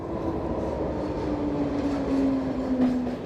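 A London Underground tube train in wartime running steadily through a station or tunnel, a continuous loud rumble of wheels on rails with a rising metallic squeal building toward the end, no voices.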